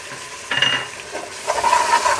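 Onion, garlic, ginger and cumin frying and being stirred in a pan for a breakfast dish of goat trotters, with a soft sizzle and a couple of scraping stirring bursts, close and moderately quiet, no talking.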